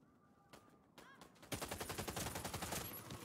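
Rapid bursts from an AUG A3 HBAR rifle in the Warface shooter game, a few faint shots at first, then a sustained, evenly paced stream of loud automatic fire lasting the final couple of seconds.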